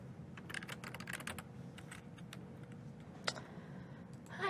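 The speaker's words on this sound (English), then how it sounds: "I'm just having a lot of trouble typing" Rapid, uneven keystrokes on a computer keyboard clatter in bursts over a steady low room hum, fading to sparse clicks, with one sharper tap near the end.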